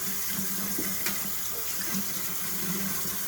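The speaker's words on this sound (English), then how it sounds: "Now you've got a pile of parts in the sink, still getting rinsed off with soapy water." Tap water runs steadily into a kitchen sink, rinsing a pile of plastic model kit parts in soapy water, a continuous close splashing hiss with faint clatter of the pieces and no voices.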